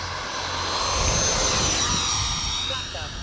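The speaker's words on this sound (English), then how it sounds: "Perfect scale takeoff with half throttle." A Freewing F-14 EDF RC jet takes off at half throttle with flaps at half, giving a steady, loud ducted-fan whine and rushing roar that holds throughout, with a voice talking over it.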